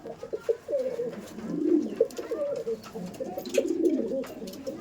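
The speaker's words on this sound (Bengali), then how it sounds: "বাহ, এটা মালবাহী পায়রা।" Racing pigeons coo repeatedly close at hand, with rolling throaty phrases overlapping in a loft and light handling clatter underneath.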